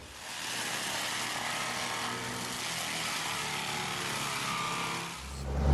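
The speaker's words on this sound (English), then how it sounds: "it pushes them into this big red chipper that we have right here" Big red wood chipper fed logs by a loader during brush fuels clearing, a steady loud broadband roar of engine and grinding that holds for several seconds and swells near the end.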